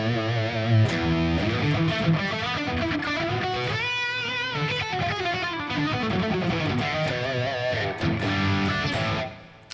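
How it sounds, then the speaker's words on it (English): A Les Paul electric guitar played through high-gain distortion, loud dense chords and sustained ringing notes filling the clip, with a bending lead line in the middle before a final strum fades out. "now I can just enter full on distortion."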